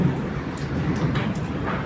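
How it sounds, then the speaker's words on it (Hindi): Heavy rain and a thunderstorm make a steady, dense roar that fills the whole stretch, with low rumbling underneath and no voices. "आज तो भाई क्या भयंकर तूफान आ रहा है"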